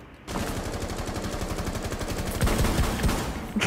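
Rapid-fire Saiga shotguns in Rainbow Six Siege, a fast stream of punchy blasts in quick regular succession that grows louder near the end with a few heavier reports, no voices.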